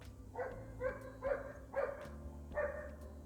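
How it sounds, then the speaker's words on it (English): An outdoor dog barks as it passes a home, five evenly spaced, muffled barks, faint and distant over a low background hum. "This dog, every time he walks by a couple times a day, he never stops barking"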